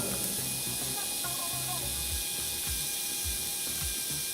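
A dental bur finishes a tooth preparation for a metal overlay on tooth 37, giving a thin, steady high-pitched whine over airy spray hiss, with faint low clicks and thumps beneath.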